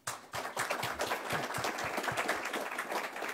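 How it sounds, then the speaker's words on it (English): An audience at a Nintendo panel at a retro gaming convention applauds, a dense, steady patter of many hands clapping from a moderately distant crowd, sustained throughout without speech. "Give them a warm applause."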